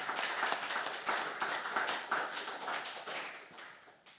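Congregation clapping during a church sermon, a dense continuous patter of many hands that stays steady and fairly loud throughout.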